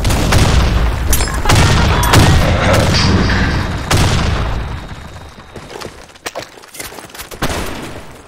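Grenade blasts and gunfire in the shooter game Blackshot: loud booming explosions and rapid shots crowd the first half, then thin into scattered sharp bangs and a final blast.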